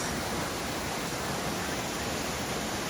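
A big waterfall at Zealand Falls on the Appalachian Trail gives a loud, dense, continuous rushing roar that fills the whole moment with steady broadband noise.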